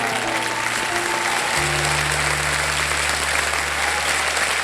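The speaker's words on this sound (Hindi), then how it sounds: "तालियां बज जाएंगे।" Studio audience on the set of the quiz show Kaun Banega Crorepati bursting into loud, sustained applause that holds steady throughout, with a low musical drone underneath.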